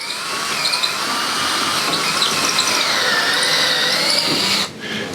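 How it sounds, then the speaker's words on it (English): A power drill bores a hole through a door to fit a lock, a loud continuous whining grind with slight pitch wavers as the bit cuts through the wood, cutting off briefly near the end. "you still want to keep an eye on that drill bit coming through"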